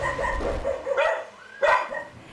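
Dogs bark in a cluster at a home crowded with nearly forty pets, two or three loud close yelps and barks rising over a steady murmur of background noise, with no talk.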